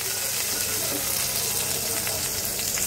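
Onion, green chili and radhuni spice tempering in hot oil for a Bengali khoilsha fish curry, giving a loud, dense, steady sizzle that runs unbroken throughout with no voices.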